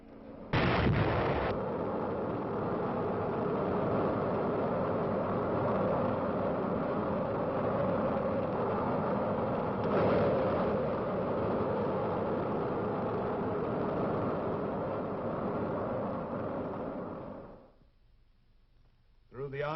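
Army missile launching after a countdown, a sustained loud roaring rumble that starts abruptly, holds steady for about seventeen seconds, then fades away.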